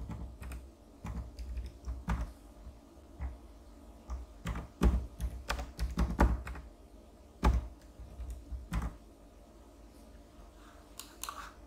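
Keys clatter on a computer keyboard as an email ID and password are typed, in irregular bursts of close, crisp taps with short pauses between.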